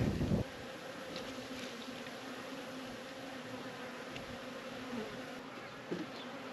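A steady, low buzzing hum of many honeybees in an open hive fills the scene, with a faint hiss of wind and a couple of soft knocks.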